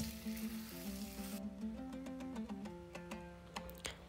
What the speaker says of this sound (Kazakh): Енді картошкаларымызды салып, барлығын жақсылап қуырып алатын боламыз.